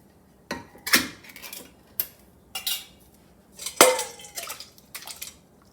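Canned diced tomatoes from a 14.5-ounce can being put into a bowl, a series of close, sharp clinks and scraping knocks of utensil against container, spaced irregularly with quiet gaps between.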